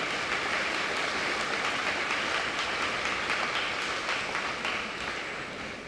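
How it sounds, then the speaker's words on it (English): A school assembly audience applauds veterans at a Veterans Day gathering, a dense wash of clapping that stays level and then eases slightly toward the end, heard at some distance. "Let's give all of them a round of applause for their service to our country."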